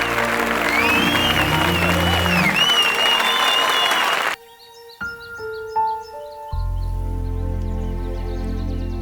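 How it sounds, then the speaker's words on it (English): A crowd gives a loud, dense round of applause with some whistling and cheering, cutting off abruptly partway through to give way to quiet musical tones and a low rumbling drone. "Everybody give a round of applause for him."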